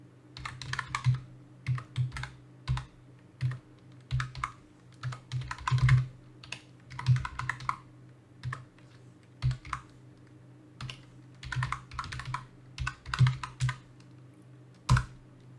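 Someone types a file path on a computer keyboard, with quiet, close key clicks arriving in short irregular bursts separated by brief pauses.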